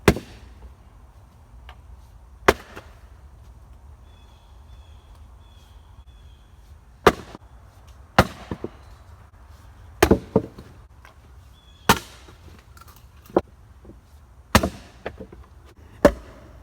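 Axe splitting firewood outdoors: sharp, sudden chopping cracks land every second or two with quiet pauses between, some strikes followed by small clattering pieces, and no voices.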